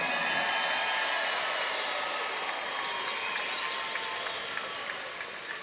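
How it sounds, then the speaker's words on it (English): An audience applauds at an amateur MMA event after a women's bout, a steady, fairly faint wash of clapping and crowd noise lasting throughout. "let's give these 150-pound women a big round of applause."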